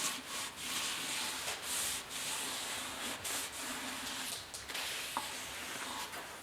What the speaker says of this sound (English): take a little lacquer thinner, give it a wipe down